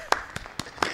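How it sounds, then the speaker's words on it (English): Hands clap in a scene from the 1999 film Election, with one person starting the applause for a school election candidate. Four sharp, distinct claps land at a steady, unhurried pace. "Her brother was the first person to clap."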